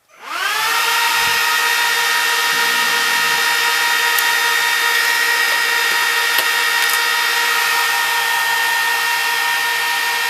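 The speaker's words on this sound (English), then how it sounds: "So that's what 14 fans sound like when they're on full speed cranking." A Dell PowerEdge 1750 rack server powering up, its 14 fans spinning up within a second into a loud, steady, whining roar with layered high tones, holding at full speed with a few faint clicks underneath.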